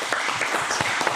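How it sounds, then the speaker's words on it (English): An audience at a startup founder pitch event gives brief, steady applause, a dense crackle of many hands clapping at once. "All right, round of applause."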